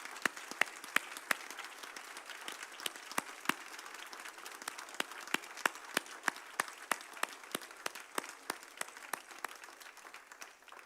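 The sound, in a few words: church congregation applauding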